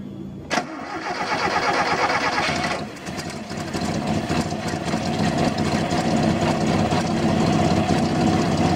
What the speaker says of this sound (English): When the radiator is filling, start the engine.